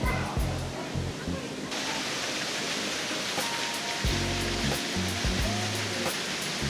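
A waterfall at Taipei Zoo gives a steady, broad rush of falling water that runs unbroken throughout, with people talking over it at times.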